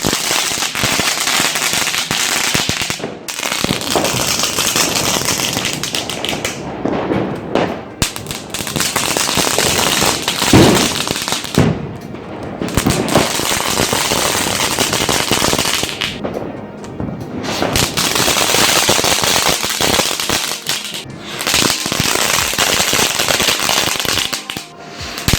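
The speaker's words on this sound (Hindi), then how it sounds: "ये पटाखे हमने दिवाली पर चलाए।" Diwali firecrackers going off in rapid, crackling bursts of sharp bangs, loud and nearly continuous, broken by several brief pauses between volleys.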